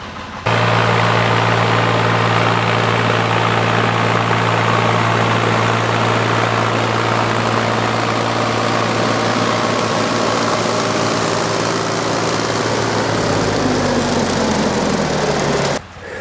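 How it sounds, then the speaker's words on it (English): A mower mulches whitetail clover in a field, its engine droning loud and steady with a constant tone for most of the stretch before the pitch drops near the end as it slows. "You want to slow down and let the mower do its job."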